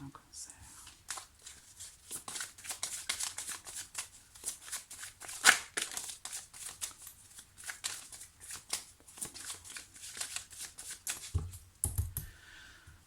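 Oracle cards are shuffled by hand during a tarot-style reading, a steady soft riffling and slapping that runs throughout while someone speaks over it.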